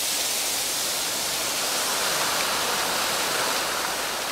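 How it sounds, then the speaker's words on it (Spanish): Water rushes through the fountains and channels of a Mediterranean garden, a dense, steady roar of splashing flow that fills the whole scene evenly and loudly with no break and no voices. "no tiene ni idea del poder y la intensidad del agua que recorre las venas de este jardín"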